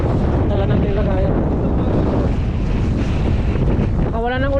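Strong wind at sea roars steadily into the microphone aboard a small fishing boat in rough waves, a loud constant rush with a voice breaking through near the end.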